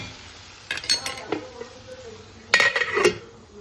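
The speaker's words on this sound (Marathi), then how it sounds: "थोडा झाकण लावून ठेवते." A metal lid clanks and clinks onto a cooking pot holding a mango and fenugreek dish with jaggery, a few sharp knocks in two short bursts over a faint background sizzle.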